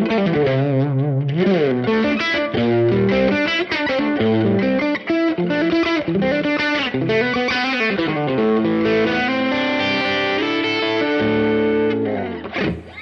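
Electric guitar driven through a Nobels ODR Mini overdrive pedal, playing a continuous stretch of chords and single notes with a thick, saturated tone, loud and close with no voices.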